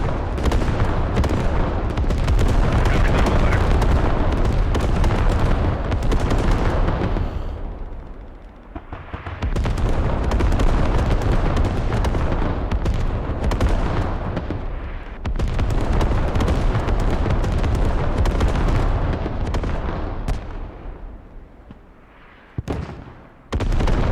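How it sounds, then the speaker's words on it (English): Heavy artillery slams down in a barrage in the military shooter Squad, with booming blasts rolling one into the next. The deep, loud rumble dips briefly, then surges back and ends in a few sharp, separate hits. "So take a look at this beautiful heavy artillery coming in."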